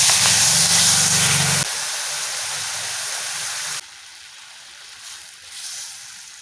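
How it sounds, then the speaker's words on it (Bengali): Tamarind water poured into a pan of simmering fish egg curry, giving a loud steady hiss and sizzle that drops in steps and fades to a quieter bubbling near the end. "আমি এই তেঁতুলের জলটা দিয়ে দেবো।"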